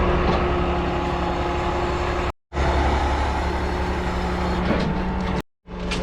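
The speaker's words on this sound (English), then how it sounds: "Block trucks here." A heavy block delivery truck idles and rumbles at a construction site, a loud continuous engine drone with steady low hum, broken by two brief cuts to silence.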